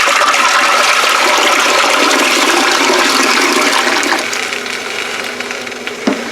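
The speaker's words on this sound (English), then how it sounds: "Put the rest of the water in." Water pours steadily into a pressure canner holding jars of green beans, a loud continuous rushing splash that eases off toward the end, with a small clink near the close.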